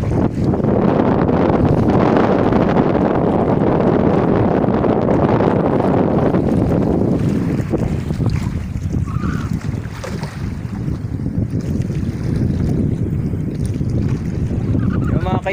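Big waves and strong wind at sea recorded from a small fishing boat, a loud, continuous roar with heavy wind buffeting the microphone throughout.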